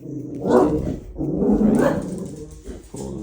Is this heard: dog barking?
yes